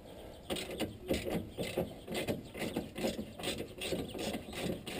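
A hand ratchet loosens the bolts on a car during home repair, its pawl clicking in quick repeated bursts close by, with steady mechanical ticking running through the whole stretch and no talk over it.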